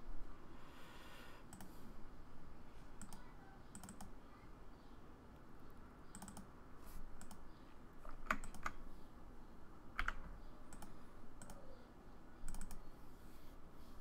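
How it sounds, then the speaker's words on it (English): Typing and clicking on a computer keyboard, steady soft clatter with scattered sharper clicks, close but quiet, with no voice. "I'm sure you guys can hear me clicking."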